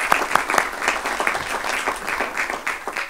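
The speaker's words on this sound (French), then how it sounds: "On peut même t'applaudir parce que c'est aussi la vie qui continue" Applause from attendees at a Dreux municipal council meeting, a dense burst of hand claps with individual sharp claps standing out, steady and fairly close for about three seconds with no talking.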